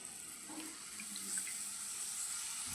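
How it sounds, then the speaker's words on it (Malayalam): Salt water poured into a spiced masala for an ivy gourd pickle, a soft steady trickle of liquid running alone for a few seconds. "ഇതിനകത്തേക്ക് ഞാൻ ഉപ്പ് പൊടിയല്ല, ഉപ്പ് നീരാണ് ഒഴിച്ചു കൊടുക്കുന്നത്"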